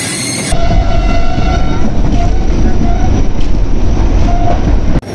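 Rehman Baba Express, train 48 Down, hauled by an EMD locomotive, rolls past loud and close with a steady roar of wheels and carriages. A long horn tone sounds through the middle, and the roar cuts off sharply near the end.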